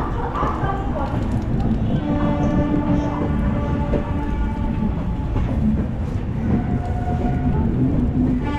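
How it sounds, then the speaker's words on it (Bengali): The 12841 Coromandel Superfast Express pulls out of Shalimar's platform 1 with steady rumbling and rhythmic clacking of wheels over rail joints, heard close and continuous, with a voice speaking over it. "1284 করমণ্ডল সুপারফাস্ট এক্সপ্রেস শালিমারের 1 নম্বর প্ল্যাটফর্ম থেকে ছাড়ছে"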